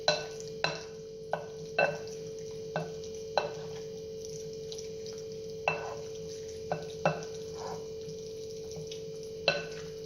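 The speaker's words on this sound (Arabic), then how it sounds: "نخلطو بيان. خصني يدخل الزيت هذاك كامل اللحم تاعنا." Meat frying in oil in a pan is stirred with a steady sizzle underneath and sharp, evenly spaced scrapes and knocks of the spoon against the pan, close by with no talking.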